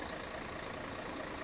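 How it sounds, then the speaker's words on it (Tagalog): A brief, loud, steady drone from a running Shacman tanker truck engine. The noisy mechanical rumble is close by and has no voices over it. "Napakaingay ng ano, andar ng makina mga sadik."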